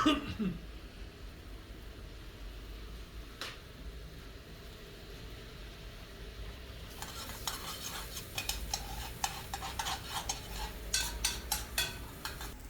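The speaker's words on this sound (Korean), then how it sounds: "팬에 올리브유 두르고 샬롯을 넣고 갈색빛이 날 때까지 잘 볶아줍니다." Shallots sautéing in olive oil in a pan, with a soft steady sizzle and, later, repeated utensil stirring and scraping against the pan, close and moderately loud.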